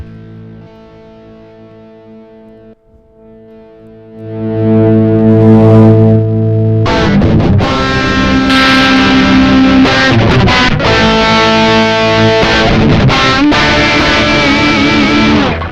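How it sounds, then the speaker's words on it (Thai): A clean electric guitar chord rings out, then switches to a loud, heavily distorted crunchy tone from a Tech21 SansAmp TRI-A.C. preamp pedal that sustains and keeps strumming. "อันนี้ผมจะปรับ เป็นเสียงแตก เป็นเสียงแตกไว้นะครับผม"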